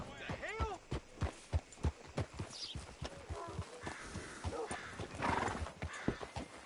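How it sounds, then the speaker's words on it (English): In Red Dead Redemption 2, a horse's hooves clop in an uneven rhythm and the horse neighs sharply near the start, close and fairly faint, with a voice speaking over it. "Hitch your horse up here."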